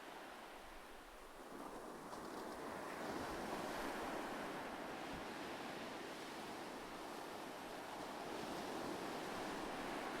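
Ocean waves wash in a continuous, soft roar of surf with wind noise, swelling slightly early on and then holding steady and calm, with no voices.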